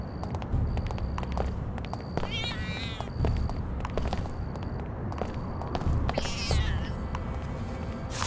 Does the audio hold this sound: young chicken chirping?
no